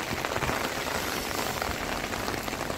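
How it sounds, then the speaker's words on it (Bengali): Heavy rain pours down in Al Ain, UAE, a dense, even hiss of drops striking surfaces close by, steady and unbroken without any voices. "অনেক বৃষ্টি"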